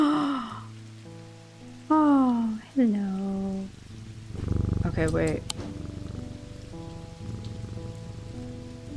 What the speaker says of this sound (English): Oh, I love when it rains in the game.